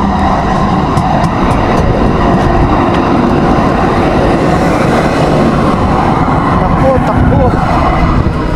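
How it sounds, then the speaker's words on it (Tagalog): A train pulls into a city station with a loud, steady rumble and rattle of wheels and cars that fills the whole stretch, with faint crowd noise mixed in. "Dyan na yung train."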